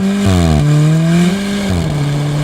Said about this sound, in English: Do you hear the DSG farts?